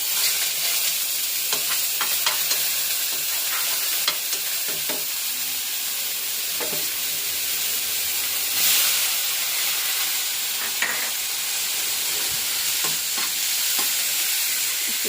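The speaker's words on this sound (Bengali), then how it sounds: "ভাজা ভাজা করে নিই।" Grated garlic, onion and a little green chili fry in a pan with a steady, close hiss and sizzle, broken by occasional soft stirring scrapes, and no one talks.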